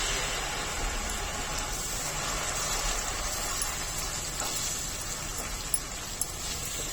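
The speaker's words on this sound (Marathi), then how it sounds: "सर्व चांगलं तेलावर परतून घ्यायचे" Chopped onion and pureed tomato with green paste sizzle steadily in hot oil for chicken curry, a dense continuous crackle that holds loud and even throughout, with a couple of brief sharp clinks near the end and no talk.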